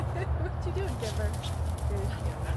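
A dog whimpers and gives short high yips amid other outdoor activity, the thin cries scattered and moderately close over a low rumbling background; people talk nearby.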